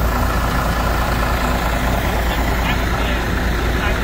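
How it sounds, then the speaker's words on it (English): A concrete lorry idles on a house building site in Thailand, its heavy engine rumbling steadily and loud throughout, with faint voices in the background. "concrete lorry's here"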